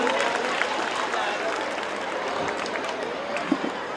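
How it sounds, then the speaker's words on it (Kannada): An audience at a school Mysuru Dasara dance programme applauds to welcome the class 2 dancers, a fairly soft, steady patter of many hands clapping with a few louder claps near the end. "ಒಮ್ಮೆ ಜೋರಾದ ಚಪ್ಪಾಳೆಯೊಂದಿಗೆ ಅವರನ್ನು ಸ್ವಾಗತಿಸೋಣ"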